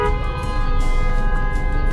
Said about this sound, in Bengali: বাইকের হর্ন খুলে গেছে সম্ভবত